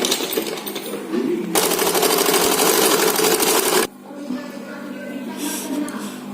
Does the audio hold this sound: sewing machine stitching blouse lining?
yes